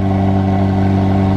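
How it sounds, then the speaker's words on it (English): A McLaren 720S engine without a sports exhaust idles right after starting, a loud, steady, close-up mechanical drone with a deep even hum throughout. "the 720S just started. Mind you, this is not with a sports exhaust system, and it's already crazy loud"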